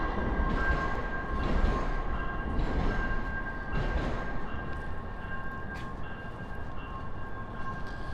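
Trains rumble past steadily in foggy downtown Minneapolis, a continuous broadband roar with faint tonal squeal, heard from nearby with no speech over it.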